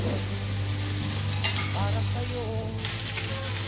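Onions frying in a wok over a high flame, a strong continuous sizzle with stirring and a low steady hum beneath, with no talk.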